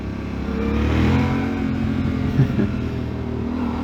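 A 2019 Yamaha Tenere 700 motorcycle engine revs on the throttle, a steady close mechanical drone that swells briefly and then holds level, heard alone without talk.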